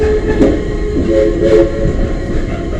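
Southern Railway No. 4501, a Southern Railway Ms-class steam locomotive, rolls past with rumbling train noise and short, faint horn-like tones over the top.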